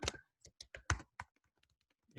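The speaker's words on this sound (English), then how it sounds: "And I can type in B1" Typing on a computer keyboard during spreadsheet data entry in Excel, with a close, crisp run of separate key clicks, several quick taps and then fainter scattered presses, heard alone.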